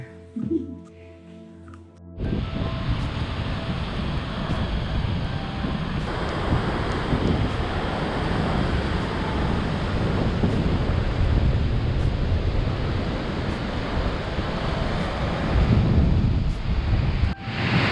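Surf rolls in steadily along a Moroccan shore, a continuous broad wash of breaking waves mixed with gusting wind buffeting the microphone, loud and close after a brief quieter opening.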